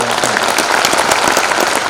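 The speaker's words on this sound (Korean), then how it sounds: "시청자 여러분의 다시 한번 축하의 박수를 보내주시기 바랍니다." Steady, loud applause from a crowd at a city hall award ceremony in Gwangju, dense continuous clapping filling the whole moment with no voices over it.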